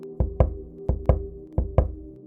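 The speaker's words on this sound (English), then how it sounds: "3 soft knocks, right behind the headboard." Soft knocks come from behind a bed headboard at night: short muffled raps in three closely spaced pairs, steady and close, over a low sustained droning tone.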